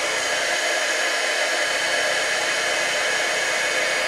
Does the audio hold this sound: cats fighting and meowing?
no